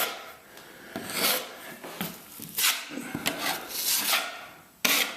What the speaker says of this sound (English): take your mud, run your spatula over top of the hole